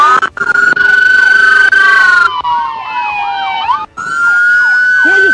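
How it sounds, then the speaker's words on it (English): A police car siren blares very loud and close during a high-speed chase, shifting from a steady wail into rapid yelping sweeps and back again. "Kill your siren!"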